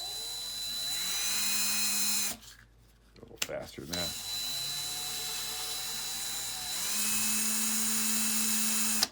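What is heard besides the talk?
power drill spinning as lathe, buffing screws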